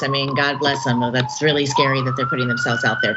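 A police siren wails steadily outside, its rising and falling tone running under continuous indoor conversation throughout.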